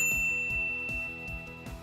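A notification bell dings five times in an even rhythm, each strike close, bright and clean, decaying quickly over a soft sustained tone.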